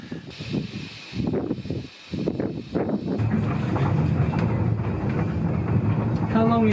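A Corris Railway train in Wales rumbles along the line with wind buffeting the microphone; faint voices come first, then steady running noise and a short high tone near the end.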